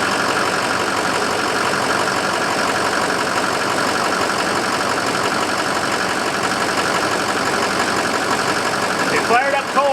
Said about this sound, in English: It fired up cold, so that's a move ahead, and it's idling nice and smooth